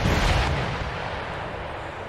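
Howitzer artillery fire in the video game Empire Total War, a single loud, close boom that decays into a rumbling tail, with no talking.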